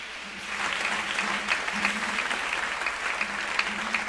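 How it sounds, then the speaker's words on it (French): A church congregation applauds during a French-language worship service, a fairly quiet, steady wash of clapping that carries on evenly throughout with a faint low hum underneath. "Nous applaudissons l'Esprit, bon Dieu, dans la ville."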